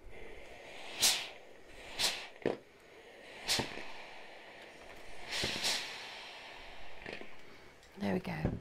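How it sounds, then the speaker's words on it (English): Several sharp hissing bursts of steam from a steam iron over pinned knitting, each a second or so, repeating at irregular intervals close by, with a brief clatter at the end. "I'm actually going to give it another little blast of steam with the pins in."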